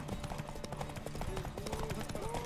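Hooves of a galloping horse in The Witcher 3 drum in a steady rapid beat, mixed with game music and someone talking over it.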